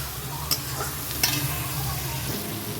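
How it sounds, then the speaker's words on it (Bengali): Tomato plus ground onion, chili, cumin, coriander and garam masala pastes fry in a pan with a soft, steady sizzle and two brief clinks of a utensil, and no one speaks. "এই টমেটোটাও দিয়ে দিচ্ছি টমেটোটা ভাজা হয়ে যাবে"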